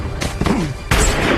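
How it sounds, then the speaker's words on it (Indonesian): Gunfire from a sniper film shootout: several sharp shots and blasts in quick succession with booming tails, loud and close, the last burst trailing into rumbling noise. "Adu tembak di antara mereka berdua pun terjadi."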